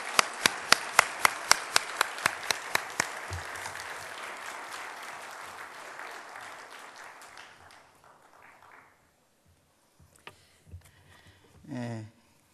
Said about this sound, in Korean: 우리 함께 박수로 환영하겠습니다.